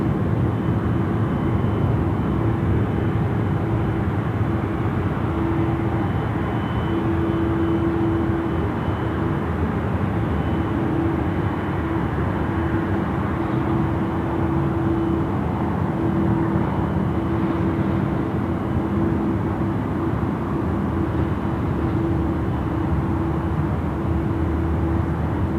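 An Airbus A330 jet departing Sydney Airport, a steady loud roar of engines with a low droning hum throughout, sustained and continuous without voices.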